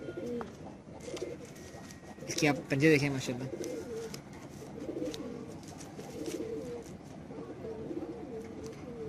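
Teddy pigeons coo softly in a loft, low repeated coos under a man's nearby speech, with one louder burst partway through.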